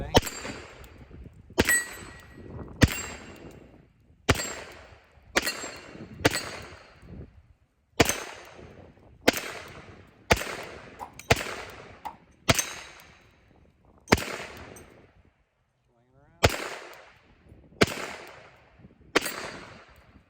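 A Beretta M9 9mm pistol fires about fifteen single shots at an uneven pace, each a sharp, loud crack with a short ringing decay, separated by quiet gaps and no talking.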